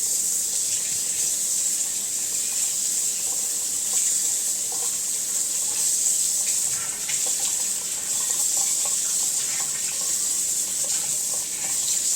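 Steady cold water running from a tap while processing quail, a continuous hiss and splash filling the whole stretch without pause, fairly close and loud.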